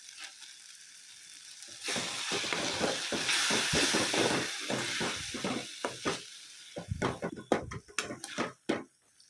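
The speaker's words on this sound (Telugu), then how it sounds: "ఇలా స్పూన్తో మ్యాష్ చేస్తూ ఉండండి, మనకి టమోటోస్ అనేవి తొందరగా గుజ్జుగా అవుతాయి." A spoon mashes tomatoes cooking in oil in a pan, a steady sizzle rising with repeated scraping and squelching strokes, then sharper, irregular clacks toward the end.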